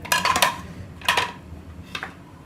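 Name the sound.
potatoes added to chickpeas in a mixing bowl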